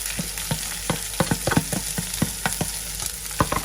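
Shredded cabbage fries in oil over already softened onions, giving a steady close sizzle broken by frequent sharp scraping strokes of a spoon against the pan, with no talking.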